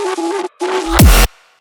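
A sampled Au clair de la lune melody forms the pre-drop of a heavy tearout dubstep track, two short tonal phrases separated by a gap, then a loud burst of a deep falling bass hit that cuts off into a faint tail.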